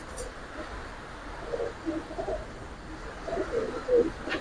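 Indian giribaz flying pigeons coo at intervals in low, rolling murmurs, moderately close, over a faint background hum.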